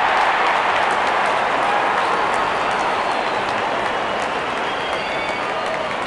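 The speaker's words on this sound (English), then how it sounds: "Openers walking in and the crowd cheering in anticipation." A crowd at a cricket match cheers and applauds as the openers walk out. The roar is loud, dense and continuous, with no break throughout.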